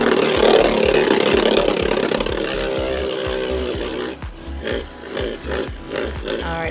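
A Beyblade Burst Cho-Z spinning top without its level chip whirs and wobbles in a stadium, a buzzing rattle with rhythmic knocking pulses that turn into slower, regular scraping bursts as it loses balance.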